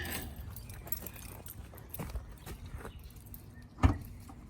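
Car keys for a Dodge rattle and jangle softly in a quiet space, ending with one sharp click or clunk.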